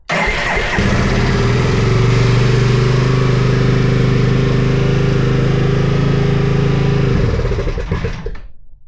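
A cold Suzuki GN 250 motorcycle engine fires up on choke and runs loud and close, a steady low thumping idle for about seven seconds before it is shut off and fades out.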